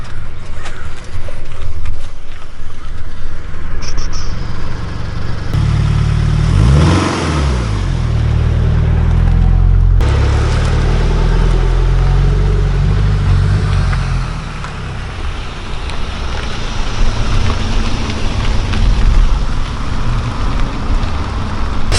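A Scion FR-S rolls and revs as it climbs onto service ramps, its engine note swelling loudly midway with a rising rev before settling into a steady drone, with rain-like hiss throughout.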